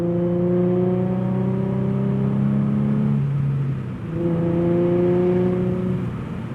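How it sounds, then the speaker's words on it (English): Infiniti G37 with a six-speed manual and Motordyne exhaust drops a gear mid-drive: a loud, steady engine drone sags, then climbs back after a brief rev-matched blip, all close and continuous with no talking. "that downshift was butter"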